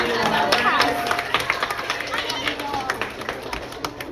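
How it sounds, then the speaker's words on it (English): A live audience breaks into applause and cheering just after a coffee can combustion science demonstration goes off, with dense clapping and crowd noise holding steady and close throughout. "How about a big round of applause for our coffee can?"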